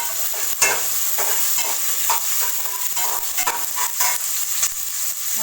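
Green chillies sizzle steadily in a pan over a medium gas flame for a masala tomato rice, with a continuous close frying hiss and repeated light stirring scrapes throughout.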